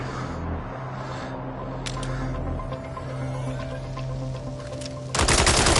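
Video game firearm gunfire over a steady electronic background hum, with a few faint sharp pops and then a loud, dense burst of rapid shots near the end.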